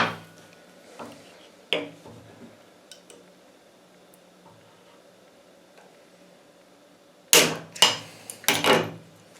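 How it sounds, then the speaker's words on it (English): Bolt cutters snipping through metal while making D-rings, a few sharp snaps and clicks early on, then a louder cluster of crisp metallic cuts and clanks near the end in a quiet room. "so now I'm going to take my bolt cutters and cut that off."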